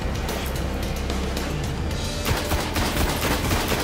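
Rapid gunfire in the video game Destiny during beta gameplay, with loud bursts of automatic shots that grow denser toward the end and sit over steady rumbling game ambience.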